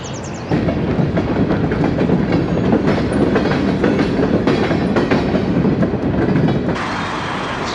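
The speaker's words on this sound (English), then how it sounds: "This train was moving through here and now it's just stopped." A train rolls past a bluff-top trail near a downtown area with loud, continuous clattering and clickety-clack of wheels on rails, then the noise drops off toward the end as it stops.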